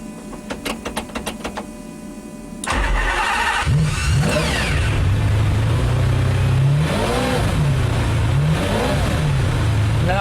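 A race-spec Ferrari Enzo or McLaren F1 supercar, stripped of sound deadening, clicks through switch and fuel-pump priming, then fires up loudly and revs repeatedly in sharp rising and falling bursts over a rough idle, with no talk.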